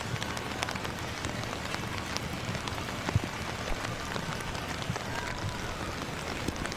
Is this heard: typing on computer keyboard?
no